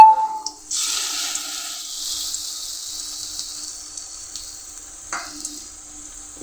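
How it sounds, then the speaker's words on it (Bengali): Snake gourd fritters made with onion and green chilli fry in oil in a kadai, producing a steady, moderately quiet hiss that starts after a brief moment and carries on evenly with faint crackles. "এই যে বড়াগুলো এখন ভাজছি"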